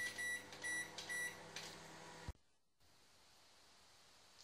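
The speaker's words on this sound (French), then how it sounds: "nous mettons les bols au micro-ondes" A microwave oven hums steadily with a few pulsing surges for about two seconds while heating bowls of butter, then shuts off abruptly into quiet room hiss.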